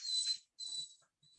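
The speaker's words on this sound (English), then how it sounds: "He's not barking, but now he's just gonna whine." A pet dog whines indoors in a few high, thin bursts with short pauses between them, the last one fainter.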